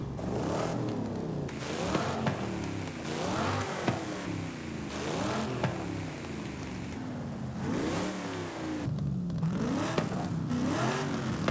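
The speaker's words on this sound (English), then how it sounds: "That sounds like a real V8." A V8 engine from the Forza Horizon 5 video game, fitted with upgraded cams and exhaust, revs hard and loud in repeated rising and falling sweeps with a deep rumbling tone throughout.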